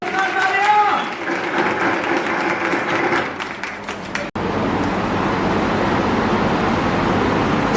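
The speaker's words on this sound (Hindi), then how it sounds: "तालियां जोरदार बजना चाहिए।" Audience at a night religious program applauding loudly, a dense steady wash of many hands clapping that carries through to the end, with voices and music over the first half.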